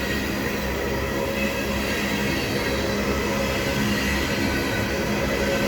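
An empty ethanol train rumbles steadily and slowly along the rails of a siding toward a signal, with faint metallic squeals and a continuous low roll, with no talk.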